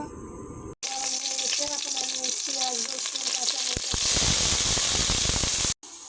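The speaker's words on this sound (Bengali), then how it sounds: "পেঁয়াজ রসুন কাঁচামরিচ লাল লাল করে ভাজা হয়ে গেছে" Chopped onion, garlic and green chilli sizzle steadily in hot mustard oil in a kadai, a dense continuous frying hiss that swells louder in the second half before cutting off abruptly.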